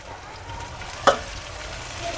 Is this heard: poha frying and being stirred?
yes